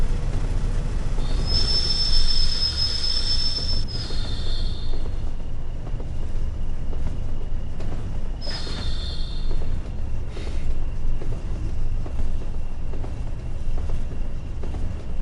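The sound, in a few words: BR Class 20 train running, clickety clack, Train Sim World 5 video game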